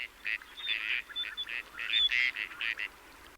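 A Gadwall duck quacking in a rapid run of short, nasal, raspy calls, fairly close and moderately loud with no other sounds.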